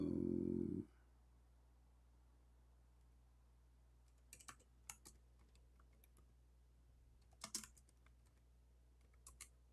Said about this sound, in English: I'm typing English in the Arabic.